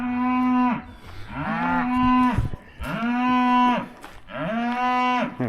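Registered Simmental cattle and calves low repeatedly on pasture, with four long, loud, close moos that each rise and then sustain before trailing off. Short gaps separate the calls, and no talk is heard.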